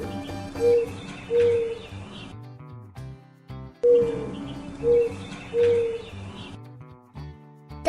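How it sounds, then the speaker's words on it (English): A dove coos in soft, repeated low phrases over a background music track with a steady beat, the calls coming in two matching rounds. "Dove."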